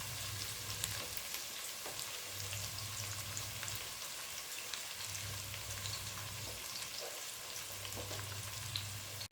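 Sliced onions fry for chicken biryani in a pan, a steady soft sizzle under a low pulsing hum, fairly quiet and continuous.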